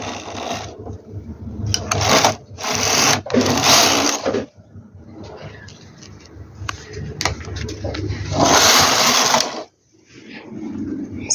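A knitting machine's carriage runs across the needle bed knitting rows of a lace pattern, giving loud whirring, clattering passes in bursts with short pauses and clicks between them.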